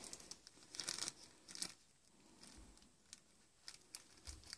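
Plastic bag crinkling as an anthropological sample is bagged in a storage facility, bursts of crisp rustling and crackling with pauses between, close and fairly quiet.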